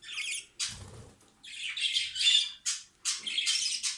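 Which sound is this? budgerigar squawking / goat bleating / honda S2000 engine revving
budgerigar squawking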